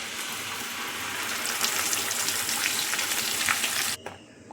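Coriander and mint leaves fry with ground green masala in a pan for paneer, giving off a loud, steady, close sizzle that cuts off suddenly near the end and leaves a faint crackle.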